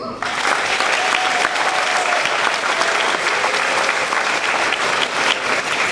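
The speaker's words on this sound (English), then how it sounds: "Join me again for a round of applause" An audience at a school dedication ceremony breaks into steady, sustained applause, a dense wash of many hands clapping at even loudness throughout, with a faint voice at the very start.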